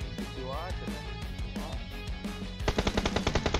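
Rapid automatic gunfire in the mobile battle royale game BGMI, a fast, evenly spaced burst of loud shots in the final second, preceded by a voice talking over game sounds.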